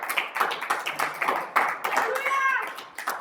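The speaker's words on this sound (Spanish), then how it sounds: "denle aplauso al Señor ahí" A church congregation claps hands, rhythmic clapping in steady beats with voices speaking and singing over it.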